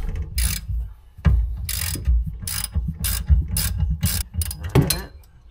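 A socket wrench ratchets in loud, close bursts while bolts are loosened on a car engine near the belt, with quick clicking pawl runs separated by short pauses and clunks.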